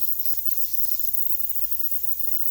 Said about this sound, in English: I'm just gonna take some brake cleaner and spray it through these holes.